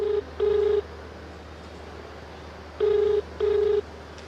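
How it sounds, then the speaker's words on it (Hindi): A telephone ringback tone plays while a call connects, two double bursts of a steady electronic tone separated by a long pause, clear and alone over quiet line hiss. "बेल जा रही है।"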